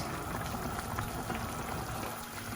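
Chicken and potato stew simmers in a covered pot with a steady, close bubbling hiss that stays even throughout, no voices.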